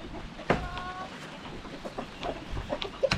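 Farmyard chickens and a rooster cluck in short, scattered bursts close by, with one brief higher call near the start and a sharper cluck near the end.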